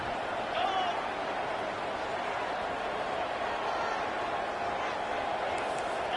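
Stadium crowd at an American football game roaring steadily on a big third-down play, a dense sustained wash of cheering throughout with a voice talking over it.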